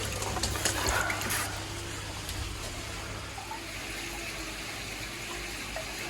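Water pours steadily into a koi container nearby, a continuous rushing splash with a brief clatter at the start and a faint background hum.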